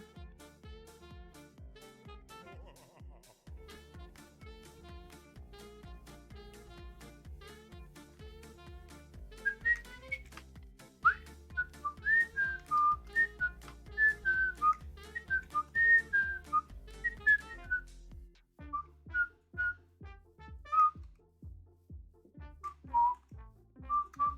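A person whistling along to a Minecraft music track: a clear, fairly close melodic whistle that starts a few seconds in, over the steady, rhythmic, plucked beat of the song.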